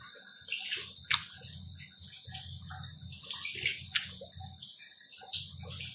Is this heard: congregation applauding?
no